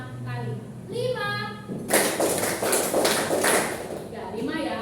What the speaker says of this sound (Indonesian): Kalau Ustazah bilang 5, maka silakan tepuk 5 kali